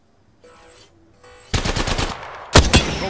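Video game gunfire: a short electronic tone first, then a loud close burst of rapid automatic shots, a brief pause, and a second sharp burst.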